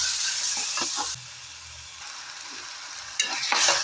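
A spoon scrapes and stirs through turmeric, tomato and ground masala in a frying pan, with a steady sizzle underneath, a quieter stretch midway and louder scraping toward the end.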